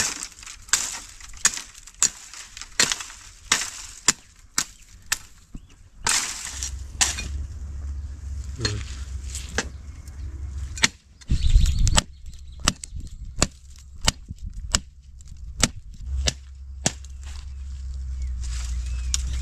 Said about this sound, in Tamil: முள்ளை மட்டும் ஒதுக்கிட்டு வெட்டிக்கலாம் ஈஸியாக